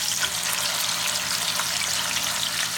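Pot roast meat searing in a hot pan gives a loud, steady, dense sizzling hiss that runs unbroken throughout, with no voices.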